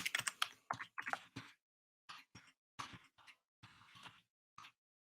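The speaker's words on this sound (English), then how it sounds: "I'll type it in the chat." Quick bursts of keystrokes on a computer keyboard as an email address is typed in, with a rapid flurry at first, then sparser clusters of clicks separated by short pauses in a quiet room.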